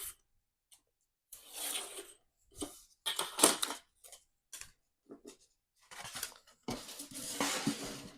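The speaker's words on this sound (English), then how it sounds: "grab my X-Acto. And just give it a slice." An X-Acto craft knife slicing through material while making a Minecraft Steve head: short, dry scraping strokes come in separate bursts with quiet gaps between them, close and fairly soft.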